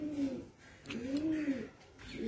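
Pigeons coo close by in soft, repeated throaty rolls, about three low calls rising and falling in a gentle rhythm.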